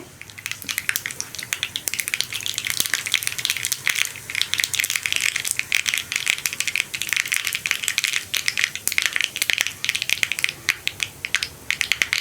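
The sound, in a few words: mustard seeds popping in hot oil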